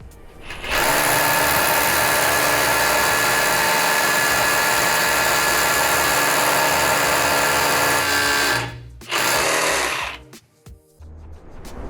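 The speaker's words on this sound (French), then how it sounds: "je vais vous faire un trou avec un forêt traditionnel" A loud power drill with a standard drill bit runs steadily for several seconds, briefly stops, then whirs again before winding down, with no talking.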